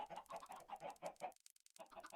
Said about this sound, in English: this is a fair few more than just a few chickens